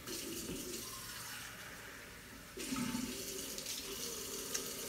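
Hot water splashes and streams steadily into a clay pot, four cups' worth, the pour starting abruptly partway through and continuing as a hollow, bubbling fill.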